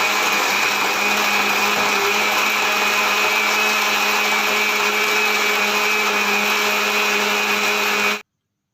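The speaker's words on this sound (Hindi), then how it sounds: "और मशीन को एक दफ़ा फिर चला दूँगा ताकि जूस मेरा अच्छी तरह ठंडा हो जाए" A blender runs again to chill strawberry juice, a loud, constant motor whir holding steady for about eight seconds before stopping abruptly into silence.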